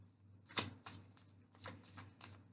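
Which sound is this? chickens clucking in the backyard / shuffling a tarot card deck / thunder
shuffling a tarot card deck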